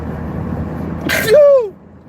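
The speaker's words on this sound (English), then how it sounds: "Sneeze." A single loud sneeze bursts out close by, with a sharp airy onset and trailing vocal tail, over low vehicle engine hum.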